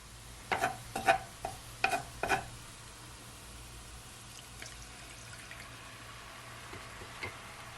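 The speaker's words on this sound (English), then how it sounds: "I'm gonna add my sauce, and I'm just gonna add it to the side right here." Stir-fry sauce poured into a hot pan of chicken, vegetable and noodles, with a few sharp clinks and splashy crackles up front, then a low sizzle that fades under a steady hum.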